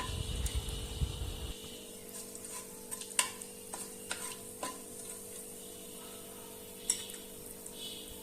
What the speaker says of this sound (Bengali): তেল একটু গরম হয়ে আসলে তেলের মধ্যে কালো জিরে দিয়ে দিচ্ছি।